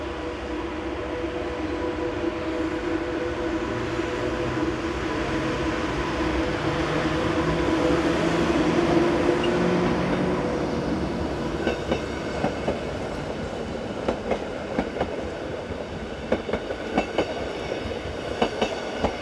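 Passenger train 1213 departs at dawn for Scuol-Tarasp, starting with a low rumble that builds into a steady roll, then rhythmic clickety-clack of wheels over rail joints grows sharper as it gets under way.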